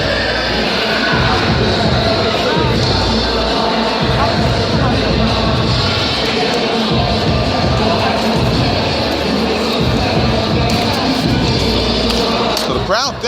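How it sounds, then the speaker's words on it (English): Crowd murmur fills a boxing event at Merrick Recreation Center, a dense, steady wash of many voices and movement carrying on throughout with no clear breaks. "So the crowd thinning out a little bit tonight."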